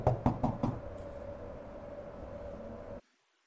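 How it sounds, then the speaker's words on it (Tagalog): A door in the horror game Curse Digicam is knocked on four times in quick succession, followed by a low steady hum that cuts off to silence. "Nasa yung kumakatok na yun?"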